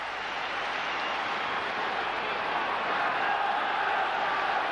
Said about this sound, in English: So the crowd respond to that.